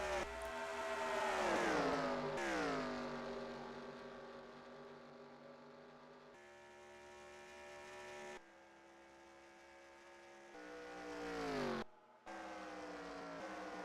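Race car engines in a sim racing game at Daytona, a pack at speed in the draft, give a droning whine that swoops down in pitch as cars pass. The tone cuts abruptly between shifting layers and stays fairly faint.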